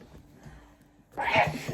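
A single sharp sneeze bursts out nearby after a moment of quiet background murmur.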